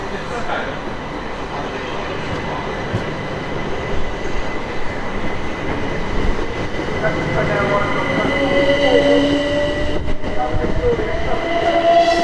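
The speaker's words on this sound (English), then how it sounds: "This is a Bombardier Electrostar departing." A Bombardier Electrostar electric train pulls out of Gatwick Airport station with a steady rumble and faint rising motor whine, wheels squealing lightly as it gathers speed, with some wind noise.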